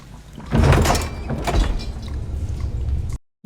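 A door opens as someone barges in: a heavy thunk and a scraping slide near the start, followed by rumbling movement. The sound is close and loud, then cuts to silence at the end.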